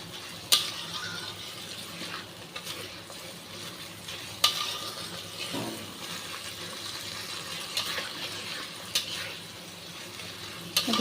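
Sour yogurt being stirred into a dhokar dalna curry in a pan on a gas flame, with scraping stirs, sharp intermittent clanks of a utensil against the pan, and a soft bubbling sizzle underneath, heard close with no talking.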